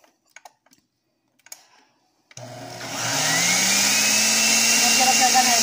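A few light taps and clicks, then a blender blending Maria cookies, lime and condensed milk starts abruptly and whirs loudly and steadily, its pitch rising as it spins up.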